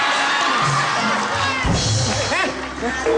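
A studio audience at a comedy show erupts in cheering and shouts, a loud crowd roar with excited voices and talk mixed through it.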